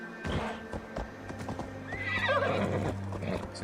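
In Assassin's Creed Valhalla, a game horse's hooves clip-clop steadily while it lets out a loud, rising whinny partway through, heard clearly over faint game ambience.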